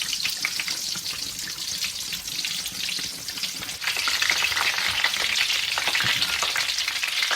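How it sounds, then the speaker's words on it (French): Coconut-breaded shrimp fry in hot oil with a loud, dense, continuous sizzle and crackle that swells slightly partway through, close up and with no talking. "Nous allons mettre aussi nos crevettes directement ici dans l'huile."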